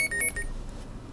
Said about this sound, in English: turn off all the alarms that are going off